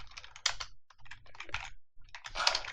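Code being typed on a computer keyboard for a Unity C# script, with bursts of quick close keystrokes separated by short pauses.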